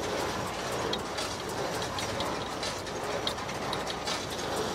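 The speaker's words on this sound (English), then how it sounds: "Balers always make a fair amount of clanking and rattling." A hay baler runs nearby in a field, giving a continuous dense mechanical clanking and rattling with faint repeated ratchet-like ticks, steady in level and with no speech.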